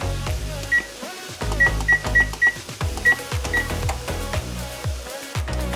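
An oven control panel gives several short, high electronic beeps while being set to preheat, single and quick-repeating tones over kitchen clatter and low background noise.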